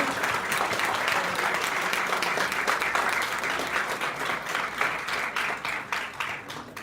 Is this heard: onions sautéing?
no